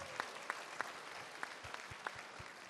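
Audience applause at a voters forum, fairly faint and thin, with a few sharper individual claps standing out from a soft, steady patter.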